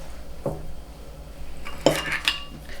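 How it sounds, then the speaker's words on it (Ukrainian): A few sharp clinks of a fork against a bowl while beating a kefir cookie mixture with sugar and salt, spaced irregularly, close up with no talking. "Все це добре розбиваю вилкою до однорідної маси, можна вінчиком."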